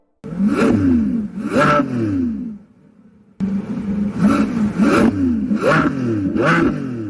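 A Lamborghini Revuelto's 6.5-liter naturally aspirated V12 engine revs repeatedly in sharp rising bursts, a brief pause, then more rapid high-pitched revs, loud and close.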